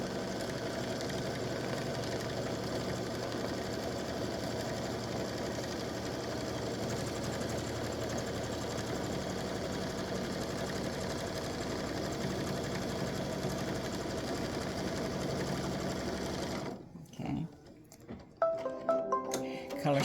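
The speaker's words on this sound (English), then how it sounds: "So I'm going to stitch color stop 10, which is the tack down of the fabric for the blue part." An embroidery machine stitches the tack-down of blue appliqué fabric, a fast, even mechanical whirr running steadily and close for most of the stretch before stopping, followed by a few clicks and handling sounds.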